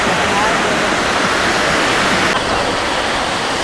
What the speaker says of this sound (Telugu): ఇది వేరే ఏదో అనుకోక వాటర్ ఫాల్సే